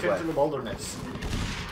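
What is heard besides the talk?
thumping gunfire in the video game Inside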